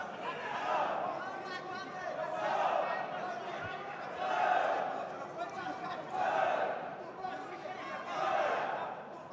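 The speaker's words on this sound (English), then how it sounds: "you hear the spectators and the supporters who are wearing the national costumes" Spectators and supporters in national costumes fill an MMA arena for an ACA 117 bout, a continuous roar of crowd chatter and cheering that swells in waves every couple of seconds, loud and reverberant throughout.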